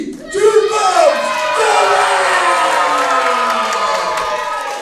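A wrestling crowd at a British show in Maidstone, Kent, cheers and whoops loudly for the hometown wrestler Vickie Twothumbs, with a sustained roar and rising shouts, children's voices and a few claps mixed in.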